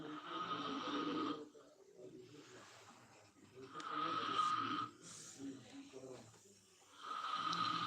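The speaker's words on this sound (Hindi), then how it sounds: "खर्राटे ले रहे हैं मुँह खोल लेते हैं" Slow, rasping snores rise and fall in long breaths, a few seconds apart, fairly quiet and close.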